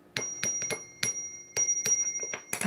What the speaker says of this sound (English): Let's ring my bell. Ring my bell.